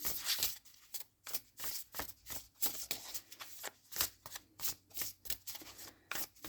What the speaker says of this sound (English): they do want me to take a card from this deck, so I'm going to try one card here.